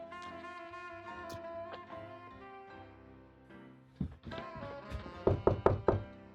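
Police pound on a door: a few knocks, then a quick cluster of heavy, hard thumps near the end, heard close over a sustained musical score.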